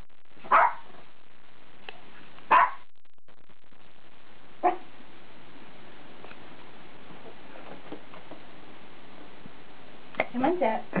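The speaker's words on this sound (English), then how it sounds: "Where's that doggy?" A dog gives single sharp barks spaced a couple of seconds apart, then a quick cluster of yips near the end, fairly close, with a voice in the background.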